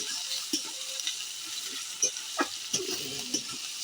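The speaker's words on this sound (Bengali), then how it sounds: "এটা এখন আমরা ভেজে নেবো পেঁয়াজটা" Onions fry in a pan with bay leaf, cloves and cinnamon, giving a soft, steady sizzle broken by a few light stirring clicks and scrapes.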